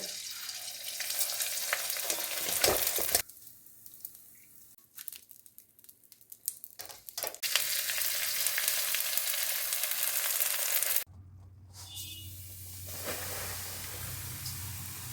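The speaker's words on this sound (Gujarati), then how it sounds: "ઘી ગરમ થઈ ગયું છે, તો હવે તળી લેવાનો છે ગુંદર." Edible gum (gond) frying in hot ghee, giving a steady bright sizzle and hiss that drops out twice for a few seconds and then returns. No one speaks.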